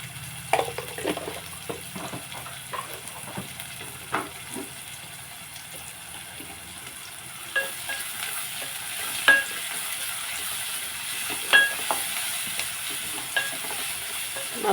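Sliced onions with turmeric and salt sauté in a pan for tivory gourd curry, a soft, steady sizzle broken by scattered clinks and scrapes of a spoon stirring, moderately quiet with no talk.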